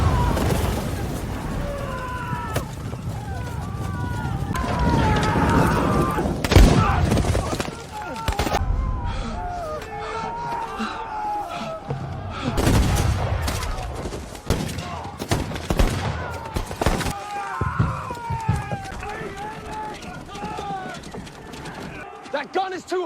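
Cannon and rifle fire in a battle against the British, dense overlapping bangs and booms with shouted voices and commotion throughout.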